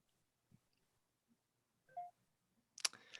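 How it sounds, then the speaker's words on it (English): Phone keypad being pressed to dial 911 in a teen drama roleplay: a few soft isolated taps and a short tonal beep, ending in a sharp louder click, with no talk. "starts dialing 911 on her phone"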